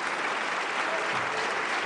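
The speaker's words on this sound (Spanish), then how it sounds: "Pie, ovación de pie." Deputies in the French National Assembly give a standing ovation after a vote recognising a Palestinian state, a dense, loud, continuous roar of many hands clapping together throughout.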